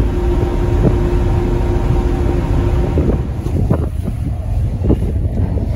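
Jamestown-Scotland ferry crossing the water toward Surry, Virginia, with loud steady wind rumble and engine and water noise throughout, a few faint thumps and brief voice traces in the background.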